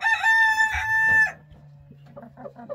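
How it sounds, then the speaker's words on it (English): A rooster crows loudly in a chicken coop, one long harmonic cock-a-doodle-doo lasting just over a second, then quieter clucking and soft hen sounds carry on behind it. "The rooster."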